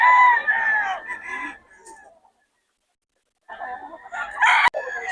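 Chickens and gamecock roosters at a market cluck and crow loudly nearby, a busy squawking burst, a short pause, then more crowing and clucking.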